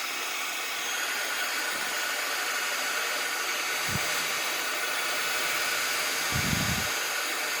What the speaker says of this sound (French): j'enclenche mon pistolet à air chaud, voilà mon heat gun